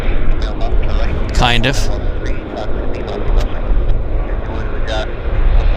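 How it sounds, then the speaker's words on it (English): A Central Mountain Air propliner on a charter flight at Vancouver airport gives a loud, steady engine drone mixed with wind buffeting on the microphone. A voice speaks briefly near the middle. "Central Mountain Air operating a charter. Yeah, old school. Classic prop liner."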